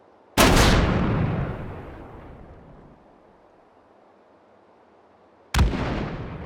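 A distant explosion in the H3VR virtual reality shooter, arriving after a delay: a loud sharp boom rolling into a long fading rumble, then a second blast starting near the end, with no talk.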